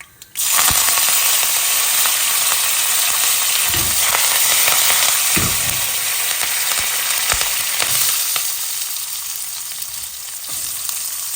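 Onions frying in oil with cumin, mustard seeds and fresh curry leaves, a steady loud sizzle that holds throughout, broken by a few soft knocks of a spoon against the pan.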